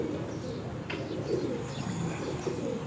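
Pigeons coo on a rooftop loft in Multan, with soft, low, repeated coos close by against a steady outdoor background and no voices heard.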